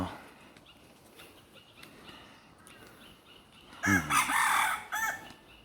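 A rooster crows once, loud and close, in an outdoor setting near peacocks, a drawn-out call rising suddenly after several seconds of quiet ambient rustling, with no voices.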